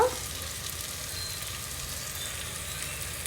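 Curry frying in a pan as chili powder and garam masala are stirred in, a dense continuous sizzle close up with soft scraping from the stirring.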